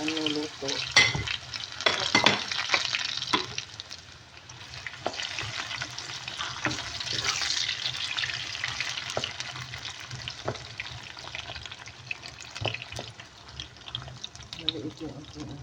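Sweet potato cooking with sugar in a pan, with soft sizzling and occasional clinks and scrapes of stirring, fairly quiet and close.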